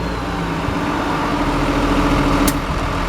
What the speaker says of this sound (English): Has a 12-valve Cummins diesel engine in it.